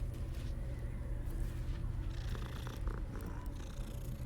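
Cat in Hogwarts Legacy purring with a continuous low rumbling drone, close and steady, with light soft rustling noises layered over it.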